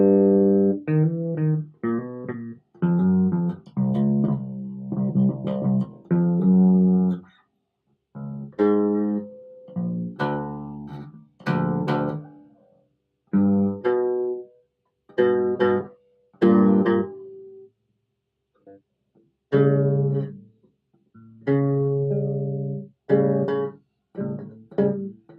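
Bright electric bass notes and short riffs played alone on new strings, punchy and clear, with brief pauses between phrases.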